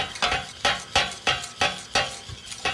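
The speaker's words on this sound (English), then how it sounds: "I'm just adding grated cheddar cheese. And I'm going to stir this." Grated cheddar cheese stirred into a sauce in a pan over gentle heat, with six or seven regular scraping strokes about half a second apart, close and clear over a soft sizzle.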